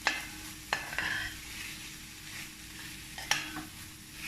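A spoon stirs buckwheat with meat in a pot, making faint scraping and clinking strokes over a soft steady sizzle, with no one talking.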